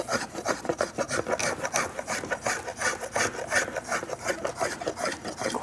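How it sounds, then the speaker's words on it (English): A metal spokeshave set to a fine cut shaves a wooden handle in quick, steady back-and-forth strokes, a close, continuous rasping scrape with no talk. "I'm going to change to the metal spoke shave, and I can set this a little bit finer"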